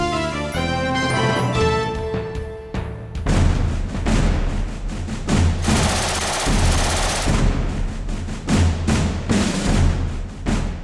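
MG34 machine gun firing in long, rapid automatic bursts, loud and close with sharp cracks blending into a continuous roar, following a brief stretch of music.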